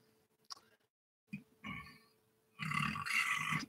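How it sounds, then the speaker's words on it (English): A man burps after drinking water, a few short guttural belches close to the microphone, ending in a longer, louder rasping burp. "water always makes me burp"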